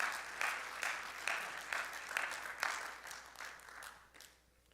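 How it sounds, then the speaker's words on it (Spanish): A church congregation claps in a series of distinct rhythmic bursts, moderately distant and soft, fading out at the end. "dale un fuerte aplauso al Señor."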